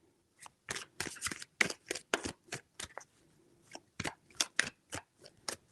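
Tarot cards being shuffled by hand during a reading, a run of quick papery riffles and snaps in short rhythmic bursts with brief pauses, close and clear with no talking.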